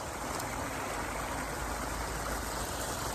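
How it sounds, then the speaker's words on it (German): Flowing stream water rushes in a steady, even wash of sound, continuous and moderately close, with no voices. "das Wasser fließt"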